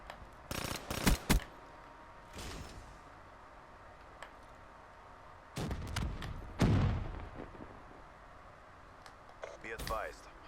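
SMG fire in the video game Black Ops 3, short rapid bursts of gunshots separated by quiet gaps, with game announcer lines and a player talking between bursts.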